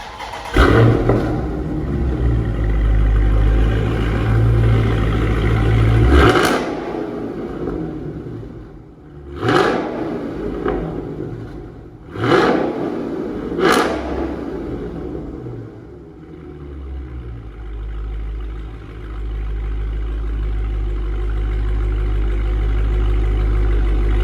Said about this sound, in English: And let's hear mine start up.